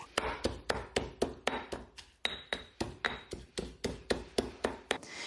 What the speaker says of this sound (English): And then I'll keep pounding until they are all broken up as well.